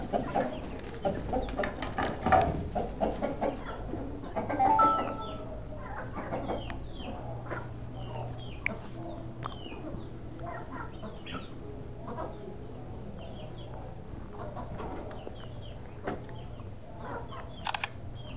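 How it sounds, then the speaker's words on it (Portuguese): Rooster and hens cluck repeatedly in a yard in São Paulo, a busy, close flock with scattered calls and squawks throughout, no talking over them. "Olha o galão, velho. O tamanho do galo."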